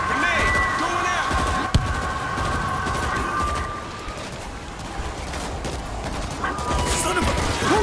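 Dense gunfire and a blast amid zombie combat in the video game World War Z, with continuous shooting, one sharp thump, and loud crowd-like chaos throughout, while a voice talks over the battle.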